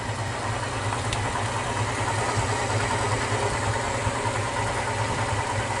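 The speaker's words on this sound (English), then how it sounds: "But even now it's extracting honey." A Maxant honey extractor spins frames of honeycomb with a continuous, loud mechanical hum and rumble. The vibration holds steady the whole time, with a few faint clicks.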